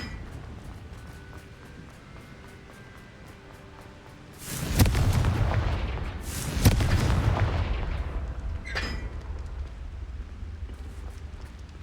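Confringo fire spell explosions from the Hogwarts Legacy game, two heavy booming blasts a couple of seconds apart followed by a rumbling roll and a sharper crack, loud over a low ambient background.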